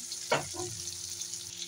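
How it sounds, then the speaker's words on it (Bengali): Onions, tempered with nigella seeds, fry in hot oil for a fish roe fritter curry, giving a soft continuous sizzle with a brief louder hiss near the start and a faint hum beneath. "পেঁয়াজগুলো তেলের উপরে দিয়ে দিয়েছি। এগুলো একটু ভালো করে ভাজা করে নেবো।"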